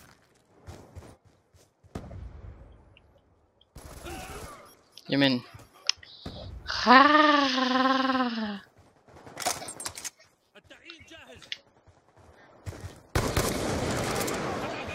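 Death machine gunfire in an online shooter game comes as bursts of rapid shots and clicks in short spurts between gaps, mixed with game sounds and a speaking voice.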